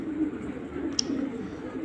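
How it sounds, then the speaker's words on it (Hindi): Black Patiala pigeons coo in a low, soft, rolling murmur that keeps going throughout, with one brief sharp click partway through. "ये काला पटियाला सैंधी कबूतरी"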